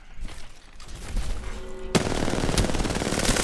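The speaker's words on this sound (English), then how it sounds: "Oh, I'm getting shot at" Rapid automatic gunfire erupts at close range in an Apex Legends firefight, turning into dense, loud, sustained shooting after quieter background game noise.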